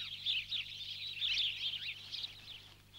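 Dense, continuous chirping from a large flock of sparrows gathered around farm barns and granaries, steady and fairly close, with no talk over it.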